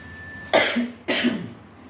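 Two sharp coughs from a person ill with a heavy fever and cough, close and loud, each a short burst with a brief tail, spaced about half a second apart.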